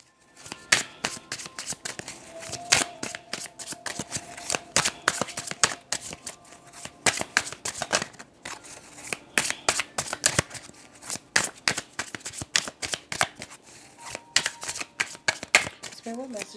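A tarot deck is shuffled by hand, giving rapid crisp riffling and card-slapping bursts in an irregular rhythm through the whole stretch, close and fairly loud with no talk over it.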